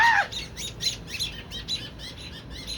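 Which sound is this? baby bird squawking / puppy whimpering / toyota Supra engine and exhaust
baby bird squawking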